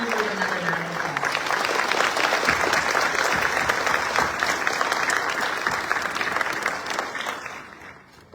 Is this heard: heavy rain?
no